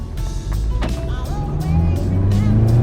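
Volkswagen GTI engine cranking and catching via remote start, a low idle rumble that steadies and rises slightly, heard close with faint background noise.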